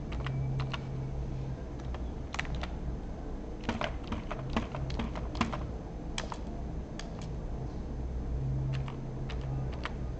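A password is typed on a computer keyboard in irregular bursts of quick, light key clicks, close and fairly quiet over a low room hum, with no one talking.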